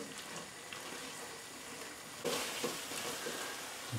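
Steak and mushroom pie filling being stirred as flour is mixed through, a soft scraping and faint simmering sizzle that grows louder and busier in the second half, with no talking.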